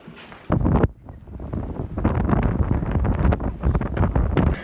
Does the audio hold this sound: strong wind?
yes